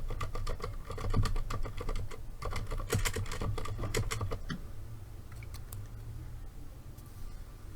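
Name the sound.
computer keyboard typing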